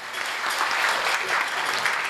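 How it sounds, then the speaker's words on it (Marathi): Dense, sustained clapping from an audience at a devotional singing program in Materewadi, Dindori, Nashik district, loud and steady across the whole stretch with no voices standing out. "दोघांसाठी एकदा जोरदार टाळ्या वाजवा"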